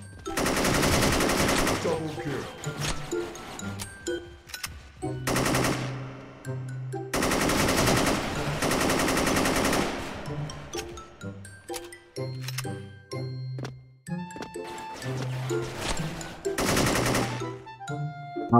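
AN94 rifle fire in the shooter game Special Force: loud rapid bursts repeated several times, with short pauses between volleys and faint game tones underneath.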